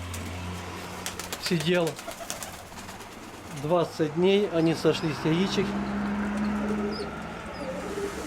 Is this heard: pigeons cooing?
yes